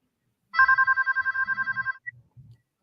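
A telephone rings with a rapid electronic trill for about a second and a half in the Scream 6 trailer, loud and clear, while low murmuring voices sit underneath and continue briefly after it stops.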